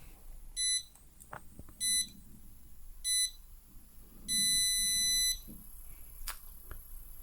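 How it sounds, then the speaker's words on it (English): A battery balancer connected to a 14-cell battery gives a set of electronic beeps: three short high-pitched tones evenly spaced, then one longer sustained beep, with quiet background noise between. "you hear that it is beeping"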